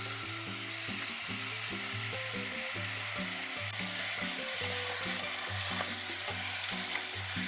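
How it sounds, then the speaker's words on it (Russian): Pork ribs frying in a pan over high heat for a sauerkraut cabbage soup, a steady dense sizzle with occasional stirring that continues throughout beneath background music, with no talking. "И обжариваю мясо до такой красивой румяной корочки на большом огне."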